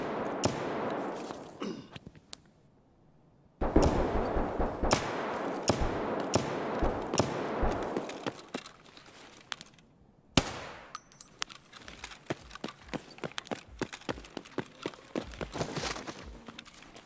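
Gunfire in Escape From Tarkov on the Interchange map: sharp bursts of rapid automatic shots and single cracks, some loud and near, others softer, broken by short pauses, with footsteps and clanks between them.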